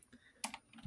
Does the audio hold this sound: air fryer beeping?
no